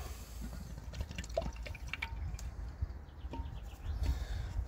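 Liqui Moly engine flush additive is poured into the engine of a 2015 Toyota Yaris 1.3, giving quiet intermittent drips and trickles of liquid with faint clicks, no speech.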